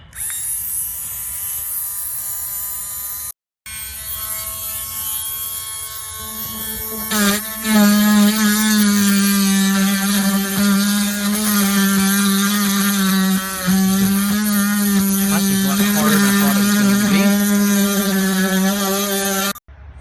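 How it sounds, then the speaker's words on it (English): A Dremel rotary tool grinds away cracked plastic on a Mercedes S63 W221 part, giving a steady, loud high-pitched whine that runs almost continuously after a brief pause near the start. "after I dremeled off a lot of the plastic, some of the crack, and then roughed up the plastic on the outside"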